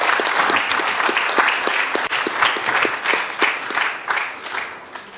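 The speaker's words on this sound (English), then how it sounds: "I think we should recognize them with a clap offering." Audience applause at an evening book launch honouring a council's founders: sustained, rhythmic clapping from a crowd nearby, swelling in waves for about five seconds with no talking.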